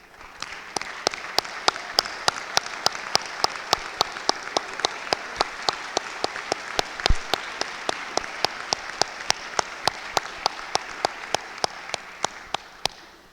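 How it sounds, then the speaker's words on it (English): A standing audience at the Pacific University Athletic Hall of Fame induction ceremony gives a long round of applause, a steady wash of clapping with sharp, evenly spaced claps standing out throughout. "Let's give them a great round of applause"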